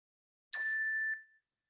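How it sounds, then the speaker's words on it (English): A single meditation bell struck once, a clean bright ding that rings with a steady sustained tone for under a second before fading into silence. "Now I'll ring a bell."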